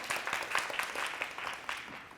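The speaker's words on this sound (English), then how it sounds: "Round of applause for her too!" Audience applause at a women empowerment conference, faint, distant clapping of a crowd, a brief steady patter without other sounds on top.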